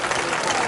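An audience applauding at an Italian mayor's public event: a short burst of dense, steady clapping, fairly loud and continuous throughout.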